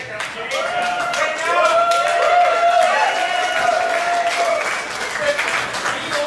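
A comedy roast audience bursts into sustained applause, a dense wash of many hands clapping that swells and holds steady for several seconds, with a few voices mixed into the crowd noise.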